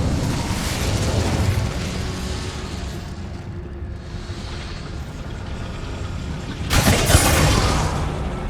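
The Incendio fire spell being cast in the Hogwarts Legacy video game, heard as a sustained roaring, rushing blast that runs throughout and swells louder toward the end.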